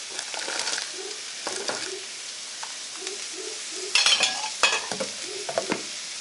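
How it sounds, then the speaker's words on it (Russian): Potato pieces go into boiling broth for a cheese soup, with several close splashy clatters and scraping stirring sounds over a steady bubbling, sizzling background. "Бульон закипел. Опускаю картофель."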